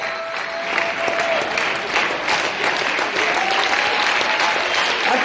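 A church congregation at a worship service claps together, a dense, steady burst of applause that fills the room and carries on throughout, with a faint voice underneath.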